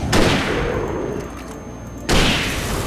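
Gunfire from a handgun in the video game Alan Wake, two loud, close blasts with a sustained rumbling tail between them, heard alone.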